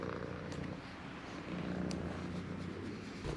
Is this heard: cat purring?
yes